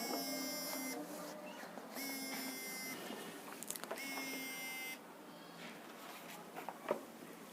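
A phone rings during a Class 10 mensuration lesson, its repeated electronic tone bursts pulsing on and off at roughly one-second intervals, moderately loud over a faint room background with no talk.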